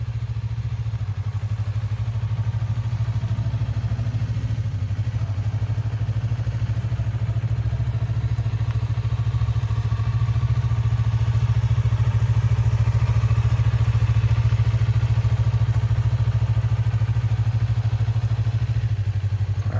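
A motorcycle engine runs steadily at a low, even drone for the whole stretch while the rider works the clutch and throttle, close and loud, with faint clatter and no talk.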